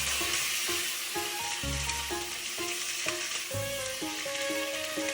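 Garlic and tomato sauté in a hot pan with chicken, a steady loud sizzle and crackle close by, with a spoon scraping and stirring in a rough rhythm throughout.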